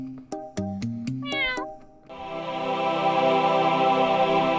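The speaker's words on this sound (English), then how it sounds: "A little cameo for my cat Cookie" A cat gives several close, clear meows, some short and one rising and drawn out, before a steady buzzing hum takes over.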